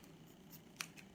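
Scissors trimming a necklace cord, a faint quick snip near the end of an otherwise quiet moment.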